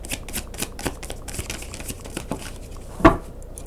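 Tarot cards slid and drawn from a deck during a reading, a run of soft papery flicks and taps in quick succession, with one sharper snap near the end; close and fairly quiet.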